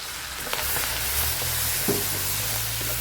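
Ground spice paste for bihun taucu drops into a pan of hot oil and fries with a steady, dense sizzle that continues loudly and evenly throughout, with faint stirring clicks.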